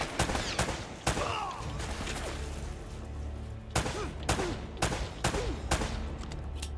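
Gunfire in Uncharted 3 at a fortress, with sharp, loud single shots and short bursts at irregular intervals, some close and some further off, over a low background rumble.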